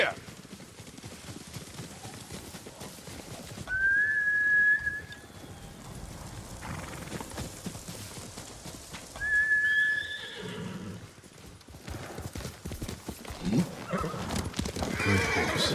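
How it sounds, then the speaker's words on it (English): Horse in the samurai game Ghost of Tsushima gives two loud whinnies several seconds apart. Hooves clop steadily beneath them, with game ambience and movement filling the gaps. "Good horse."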